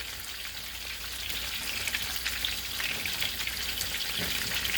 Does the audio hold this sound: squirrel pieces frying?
yes